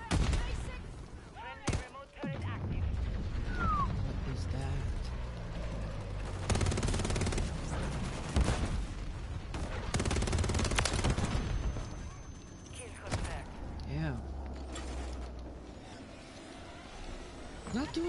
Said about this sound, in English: Friendly remote turret active.